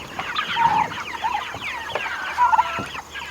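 A flock of meat chickens, males and females, clucking and chirping close by in a busy overlapping chatter of short calls with scattered scratches and taps, no talk.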